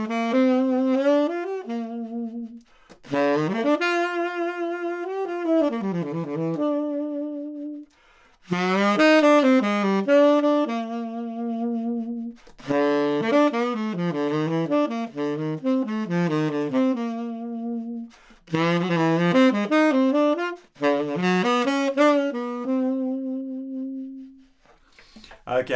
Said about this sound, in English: I'll start off by playing it all the way through